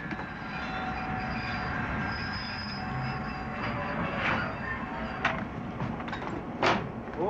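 Interior of a moving passenger train carrying travellers through green countryside in Carolina, giving a steady loud rumble with occasional squeaks and a few sharp clicks, no voices.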